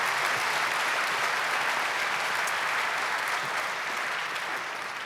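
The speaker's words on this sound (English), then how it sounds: "you can clap, yes." A church congregation breaks into steady, full applause that holds evenly throughout, with no voices on top, easing slightly at the close.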